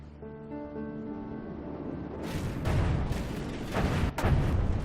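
In the From the Depths video game, a front APS gun detonates: a tonal hum gives way to a heavy, booming blast with several loud crackling bursts that follow in quick succession.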